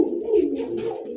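Pigeons cooing close by in a loft of fancy breeds, a low, sustained throaty coo that swells and rolls steadily, with no talk over it.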